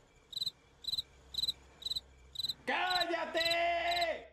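A cricket chirps close by in short, evenly spaced trills, about five in a row, before a louder sustained tonal sound takes over.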